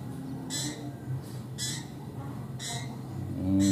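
A male common iora (cipoh) chick gives short, harsh squawking calls, three or four bursts spaced roughly a second apart, fairly faint over a low background hum.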